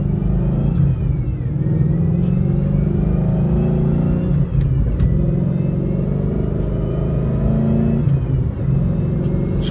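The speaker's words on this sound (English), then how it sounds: "you're going to hear that supercharger sound from the pulley." A supercharged V8 car drives on wet pavement, its engine a steady low rumble with a thin whine from the supercharger pulley riding above it. The sound stays loud and even throughout, with no talking.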